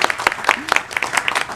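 A handful of people clap for students at a board of education meeting, giving brief, sparse, distinct claps at close range in a small room.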